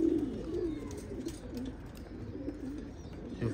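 Pigeons cooing on a rooftop pigeon loft, soft repeated low coos close by, steady and fairly quiet with no talk.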